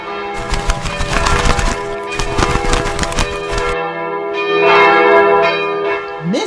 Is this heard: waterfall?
no